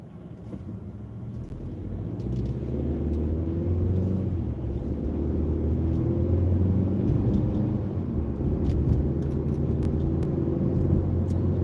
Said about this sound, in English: The car here is a Chevy Trax.